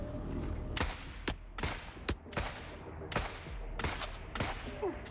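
Sniper rifle fire in the video game The Forever Winter: sharp, loud gunshot cracks, about eight of them at uneven intervals, each with a short rumbling tail over a low background hum.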